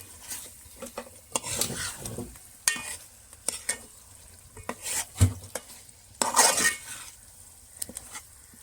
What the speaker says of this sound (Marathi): आता आपण मिक्स करून घेऊ डोक्याचा भाग